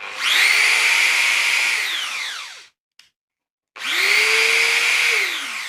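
Intertool WT-0104 corded 420 W electric drill-driver running at second speed: a loud steady whine that spins down to silence, pauses about a second, then starts up again and runs steadily.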